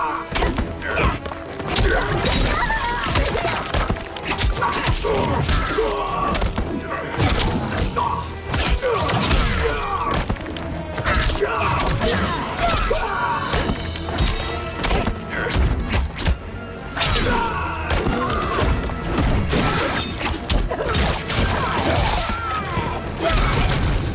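Fight impacts from the Mortal Kombat 1 video game, Mileena versus Reptile, with dense, loud thuds, smacks and crashes layered over game music, plus shouted voices and grunts.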